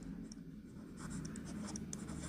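Pen or chalk writing out an equation during a class 10 maths lesson, soft scratchy strokes close by, growing busier with quick taps and scrapes toward the end.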